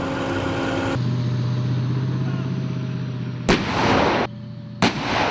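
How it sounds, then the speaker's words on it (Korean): A tank's main gun fires twice during armored battalion live-fire training, with two loud, sharp blasts about a second apart cutting through a steady low engine rumble. "포사격이 제일 중요합니다"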